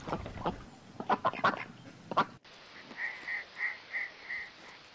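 A duck quacks five times in an even, evenly spaced run, each call loud and nasal, after a short burst of other clattering sounds.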